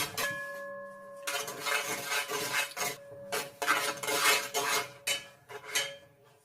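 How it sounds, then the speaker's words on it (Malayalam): Dry ginger and spice powder are mixed into fried jaggery-coated banana chips in a metal pan, producing continuous close scraping and rustling with a few metallic clinks, in bursts that pause briefly. "ഈ പൊടി നന്നായിട്ട് മിക്സ് ചെയ്ത് കൊടുക്കണം"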